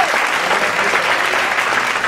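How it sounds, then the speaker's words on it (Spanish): Loud, steady applause from a congregation at a church worship service, sustained clapping filling the room without a break. "Fuerte el aplauso al Señor."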